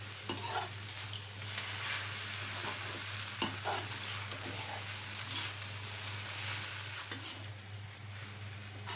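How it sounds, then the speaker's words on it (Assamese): Steady sizzling of vegetables and roti stir-frying in a hot pan over a high gas flame, with occasional scraping and stirring clatters over a constant low hum. "এতিয়া আমি গেছৰ ফ্লেমটো বঢ়াই পেলাই ধুনীয়াকৈ মিলাই দিম।"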